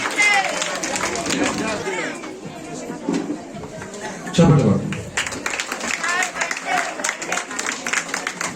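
Audience clapping at a children's dance program, a dense patter of applause rising briefly in the middle, mixed with crowd babble and talk throughout.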